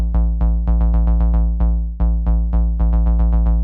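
A synthesizer bassline sequenced on C throughout repeats in a fast rhythmic pattern of punchy, decaying low notes, loud and close with no other sounds.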